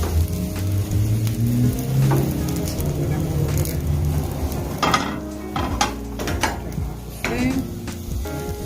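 Veggie balls sizzle and crackle steadily in hot oil, with occasional clinks and scrapes of a utensil against the pan.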